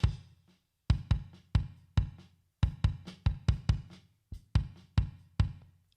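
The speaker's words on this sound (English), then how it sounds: "However, the bass drum on its own sounds like this." A lone bass drum thumps in an uneven pattern of deep, punchy hits, some in quick pairs, each decaying between strikes.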